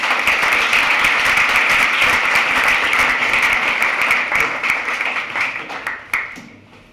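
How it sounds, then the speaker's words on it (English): Loud, sustained applause from an indoor audience at a talk event, a dense roar of clapping that holds steady before thinning out and fading near the end. "Give her a round of applause."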